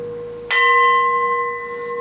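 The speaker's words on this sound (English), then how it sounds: "Finish off that gong." A gong is struck once during a Hindu puja, a sudden bright metallic hit that rings on with a steady, slowly fading shimmer for over a second, with no talk over it.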